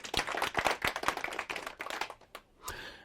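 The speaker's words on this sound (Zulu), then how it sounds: "Ngicela simuphe nje likhulu ihlombe." An audience at a youth dialogue event gives a burst of hand clapping, dense and irregular at first, then thinning to a few scattered claps before it dies away, nearby and fairly clear.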